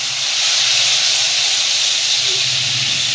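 A paste of black mustard, ginger and poppy seeds hits hot oil for a gravy, giving a loud, steady, close hiss that barely changes in level.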